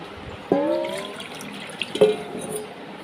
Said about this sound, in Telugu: ఈ నీళ్ళు అయితే తీసి పారబోస్తా.